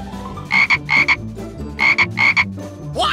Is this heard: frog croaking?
yes